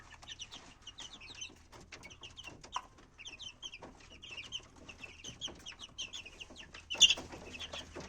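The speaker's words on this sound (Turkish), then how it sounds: "Bu da rahibe fizanlarımız ve koşinlerimiz var arkadaşlar." Pheasants and Cochin chickens cluck and chatter in a busy, overlapping flock, with one louder close call near the end.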